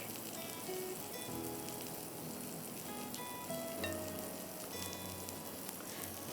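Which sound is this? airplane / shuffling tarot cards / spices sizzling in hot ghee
spices sizzling in hot ghee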